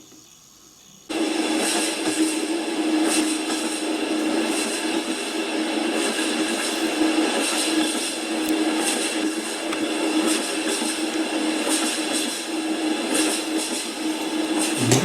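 A person vocally imitates a train carriage rattling along rails: a sudden onset of continuous, dense hissing rattle that holds steady and close for about fourteen seconds.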